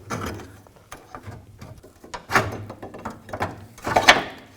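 A socket wrench loosens a track bar bolt on a 2000-2006 Chevy Tahoe, and the bolt is then pulled out: close, intermittent metallic clicks, ratcheting and clunks come in uneven bursts, with the loudest knocks near the end.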